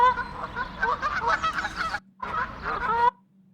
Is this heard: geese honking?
yes